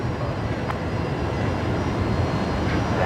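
Aircraft engine spooling up at night at Brisbane Airport, a loud, steady broadband roar that holds throughout with no pauses.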